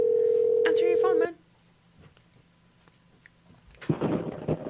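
A phone call rings out unanswered, a steady electronic ring tone for just over a second, then near silence before talking starts.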